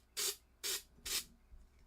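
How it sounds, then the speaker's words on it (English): Three short, sharp hisses of snow spray burst from an aerosol can in quick succession, each about a quarter second long, fairly close and clear against a quiet room. "Snow spray, okay."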